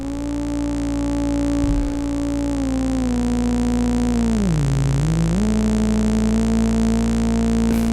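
A sustained synthesizer oscillator tone from a Lizard System unit, rich in steady harmonics, holds loud and alone while its pitch bends down and back up midway with a slight wobble.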